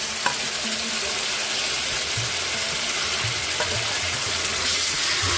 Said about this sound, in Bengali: মাটনটা এখন বেশ কিছুক্ষণ এই মশলায় কষাতে হবে